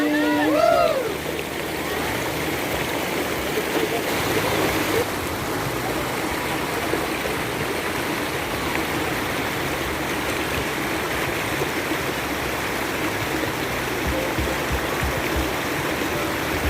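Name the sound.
river stream flowing at Leuwi Kunten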